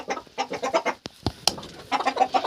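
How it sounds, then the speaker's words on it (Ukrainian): Chickens settling to roost cluck softly and murmur in a close, quiet coop, with a couple of sharp knocks between bursts of low chatter. "кури вже тут, я дивлюся, вже трохи наче посідали спати"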